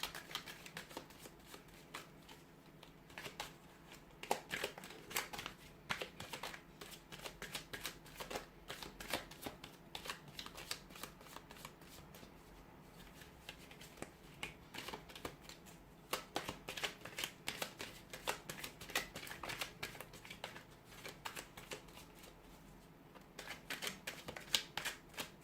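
Tarot cards are shuffled repeatedly, a rapid riffling and flicking of a deck that comes in busy bursts, close and fairly quiet, with no voices.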